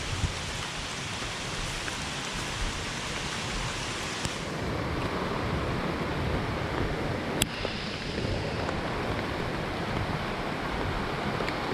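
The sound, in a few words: rushing brook water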